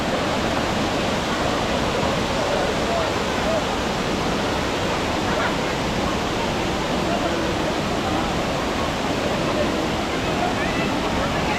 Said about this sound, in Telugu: వాటర్ ఫాల్ మాత్రం సూపర్ ఉంది, చాలా బాగా అనిపిస్తుంది.